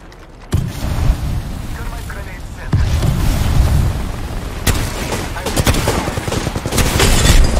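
Gunfire from a weapon in the video game Apex Legends, playing as Wraith, comes as loud, rapid bursts of shots separated by brief pauses, with impact and battle effects crowding the mix.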